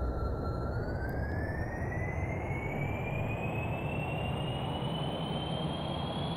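Steady jet engine roar at full throttle in Kerbal Space Program, a dense constant rumble with a high whine that rises slowly in pitch as the aircraft builds speed, loud and close with no talk.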